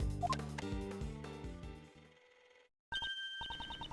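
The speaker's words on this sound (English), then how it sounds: "Judge Courtney's cell phone is ringing" Judge Courtney's cell phone rings in the video game Ace Attorney Investigations 2: game music fades out, and after a brief silence a bright, pulsing electronic ringtone repeats steadily.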